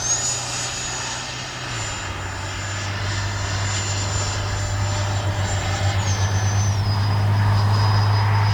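FMS Integral 80mm Sharky RC jet plane flying, a loud steady electric ducted-fan whine with shifting pitch, swelling slightly as it passes.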